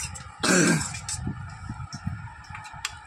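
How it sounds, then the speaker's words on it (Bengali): A boy's single harsh cough bursts out near the start, followed by quieter throat sounds and background noise. "ছেলে কুকু করে কেসে যাচ্ছে"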